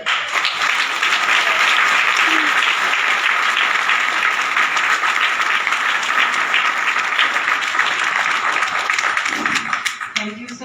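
A seminar audience breaks into loud, continuous applause, many people clapping together in a steady dense roar that fades at the very end as a voice begins to speak.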